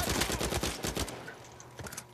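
Machine-gun fire in Uncharted 4 multiplayer: a loud, close burst of rapid shots lasting about a second, followed by quieter scattered shots.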